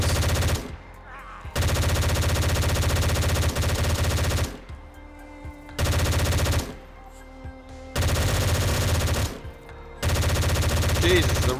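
Automatic gunfire from a weapon in the video game DayZ, several long bursts of rapid, loud shots separated by short pauses, with no talking.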